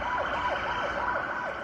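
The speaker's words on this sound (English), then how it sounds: "the sirens blaring across the night sky" Emergency sirens wail loudly in repeated rising and falling sweeps, overlapping one another in a steady, continuous blare.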